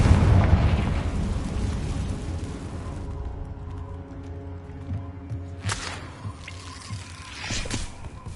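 A Confringo spell explodes in the Hogwarts Legacy video game: a loud, close blast at the start that decays into a long, fading rumble, with a few fainter magical bursts later.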